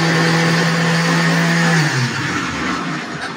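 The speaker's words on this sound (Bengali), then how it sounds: "রান্নার শুরুতে মশলাগুলো ব্লেন্ডার করে নিচ্ছি।" An electric blender grinds spices before cooking beef trotters: a loud, close, buzzing motor whine that runs steady and then drops in pitch as the motor winds down.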